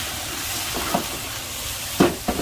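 Onion and shiso patty sizzling in a frying pan, a steady low hiss throughout with a few brief louder crackles and spatters near the end.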